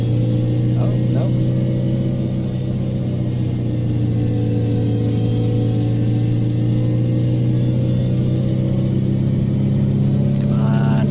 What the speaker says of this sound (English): Come on, rev the guts out of it.